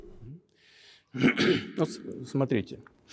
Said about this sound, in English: He'll clear his throat during numerous moments where he wants to mark out something significant.